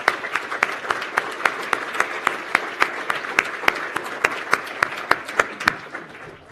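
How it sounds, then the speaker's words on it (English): A university audience at the 2014 presidential address breaks into steady applause, sharp claps ringing out in a regular rhythm that fades slightly toward the end. "And a round of applause, if I may."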